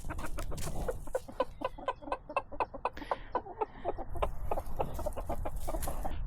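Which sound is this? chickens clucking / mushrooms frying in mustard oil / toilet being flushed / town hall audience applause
chickens clucking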